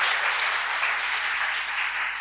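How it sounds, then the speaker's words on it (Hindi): Loud, dense applause from an auditorium audience welcoming a guest at a formal event, steady and continuous throughout with no gaps. "एक बार जोरदार ताली बजाकर उनका स्वागत करेंगे।"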